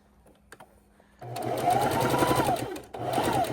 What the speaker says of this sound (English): come back over to the sewing machine